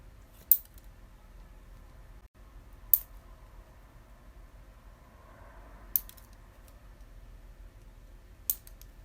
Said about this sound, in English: I'm just going to cut the tips off. Just the tips.